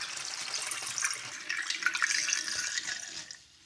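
Warmed distilled water pours into a homemade peppermint essential-oil bug-repellent spray mixture, a close, steady splashing trickle lasting a few seconds before tapering off.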